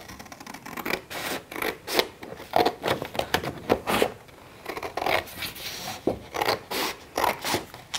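Scissors snipping through paper while cutting out a dinosaur door sign, a run of short, crisp, close cuts repeating in an irregular rhythm with brief pauses between strokes and no talk over it.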